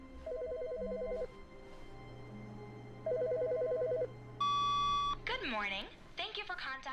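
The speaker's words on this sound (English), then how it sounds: "I hear a phone." A telephone ringing in The Stanley Parable: Ultra Deluxe: two rapid trilling rings separated by a pause, then a steady electronic beep, with a voice talking over the end.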